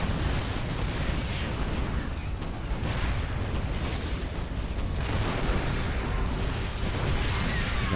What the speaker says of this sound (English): Tanks firing away.